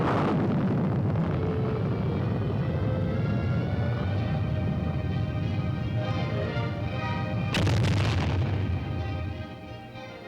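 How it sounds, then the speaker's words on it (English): Firing of the Army's Lacrosse field artillery missile, a loud continuous roaring rumble that holds for about nine seconds, with a sharp burst partway through before the roar starts to fade. "The Army's Lacrosse, a deadly accurate weapon designed to deliver tremendous firepower in support of ground troops."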